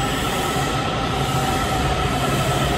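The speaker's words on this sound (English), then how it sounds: "here comes the metro train, but it's going the other way." A blue line metro train rolls past on the tracks, a loud, steady rumble with faint wheel squeal, close by and unbroken throughout.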